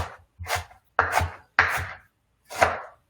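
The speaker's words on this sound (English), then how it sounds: "keep running your knife through to chop it up nice and small" A knife chopping spinach on a cutting board in four or five distinct bursts of rapid close thuds, separated by brief pauses, with no talking.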